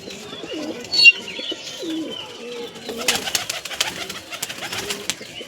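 Malbai and Punjabi pigeons coo in low, rolling calls over the first few seconds, followed by a busier stretch of rustling, wing flutters and sharp clicks close by.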